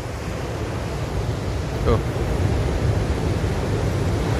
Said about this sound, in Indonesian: Ini pantai pinggir jalan loh.